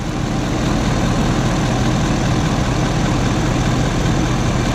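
A 2019 Ford F350 Lariat pickup with the 6.7-litre engine idles close by, a loud, steady low rumble that holds without change and with no talk over it.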